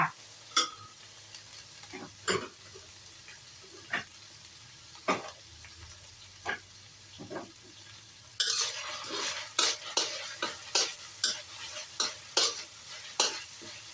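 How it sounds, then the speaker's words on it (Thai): Squid with long beans and shrimp paste stir-fried in a pan, a steady sizzle under repeated scraping clicks of a spatula, getting louder and busier partway through, with no talking. "ผัดให้หอมเลยจ้า ผัดให้หอมมากๆเลยนะคะ"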